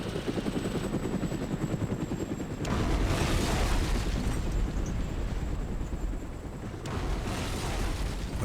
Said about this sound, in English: Hind helicopter, I believe, up there.